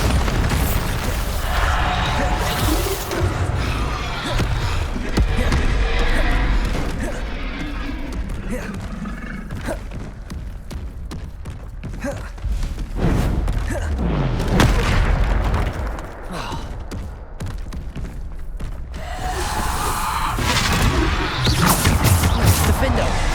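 Bombarda spell blasts in Hogwarts Legacy go off as repeated loud booms and bursts across a dense, busy game battle, with spell shouts and combat noise overlapping throughout.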